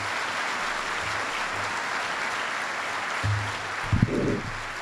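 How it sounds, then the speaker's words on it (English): Audience applause for Dr. Panholzer after he receives an award from Navy Secretary Carlos Del Toro, a steady sustained clapping across the room with a few louder swells and a brief murmur of voices near the end. "Let's give a round of applause for Dr."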